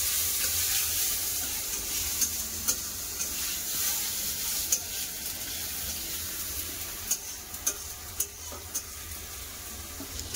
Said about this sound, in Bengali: এই তেলে একটা টমেটো ভেজে নেবো।